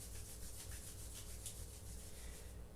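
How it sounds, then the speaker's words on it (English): Palms rubbing together during a quiet meditation session, a soft steady swishing friction repeated in gentle strokes, close and faint with no voices. "Maybe rub the hands together just a minute."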